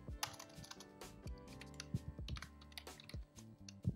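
Computer keyboard typing while writing code for a Git tutorial: scattered key clicks with uneven rhythm, over faint background music.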